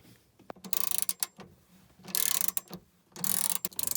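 A bolt is worked loose inside a 2015 Sprinter van with a ratchet, three bursts of rapid metallic clicking separated by short pauses, close and fairly loud, with no talking.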